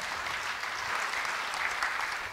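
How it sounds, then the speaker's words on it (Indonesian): Steady applause from a church congregation fills the room, a dense, even patter of many hands clapping for the whole stretch without pause. "Beri tepuk tangan yang baik bagi dia."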